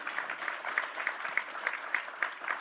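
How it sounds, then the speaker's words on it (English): An audience at a political keynote address applauds, a fairly soft, somewhat distant wash of clapping with a faint pulsing rhythm to it. It runs without talk on top. "I think you get applause on that one."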